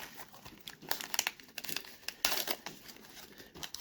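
Crinkly 1987 Topps football wax-paper wrapper torn open and crumpled by hand, a close, quiet flurry of sharp crackles and small rips with brief pauses in between.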